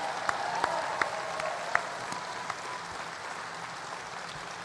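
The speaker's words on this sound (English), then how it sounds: "Let's give these guys a round of applause." A political campaign rally crowd in Reno, Nevada applauds in a steady, fairly distant wash of clapping with a few sharper individual claps, no talk over it.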